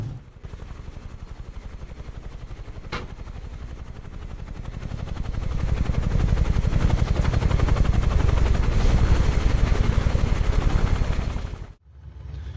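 UH-1H Huey helicopter engine running in Microsoft Flight Simulator, a steady rotor thump and turbine roar that swells in loudness, then cuts sharply near the end.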